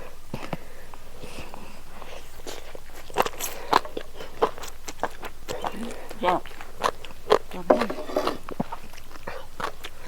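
Raw field crab som tam with crisp fresh vegetables eaten up close, a string of sharp crunchy bites and chewing at an irregular pace over soft background noise, with talking heard throughout.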